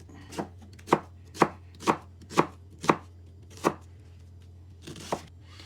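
A knife cuts through a halved onion into wedges on a board, giving about eight sharp, evenly spaced chops, each a crisp thunk. A short pause follows before two final cuts, all close and clear with no voices.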